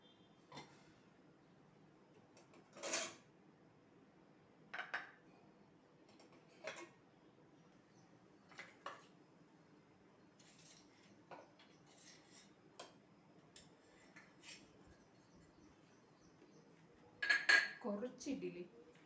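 A small idli steamer pot with a small idli plate being opened after steaming idli, giving a series of sharp metallic clinks and clanks spread out over a quiet kitchen, with a louder clatter near the end.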